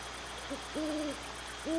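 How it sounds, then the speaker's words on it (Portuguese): An owl hoots at night in a series of clear, hollow two-part calls, fairly close and spaced apart, over a faint steady background hiss. "Coruja,"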